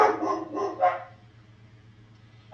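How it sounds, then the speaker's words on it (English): Dogs bark in a short burst of three quick yelps, fairly close but not loud, followed by a pause and a single fresh bark at the end, with a low steady hum underneath. "What are they barking at?"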